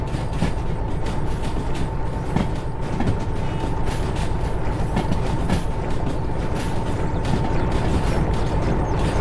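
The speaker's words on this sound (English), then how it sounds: "listening to the steam engine and march along the chung chung chung is so cool" Steam locomotive running in the Derail Valley VR train game: a loud, continuous mechanical rumble with rhythmic clicking and clanking of the wheels and rods, steady throughout, with no talk.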